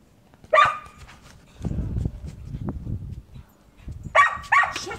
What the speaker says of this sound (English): Bark at everything.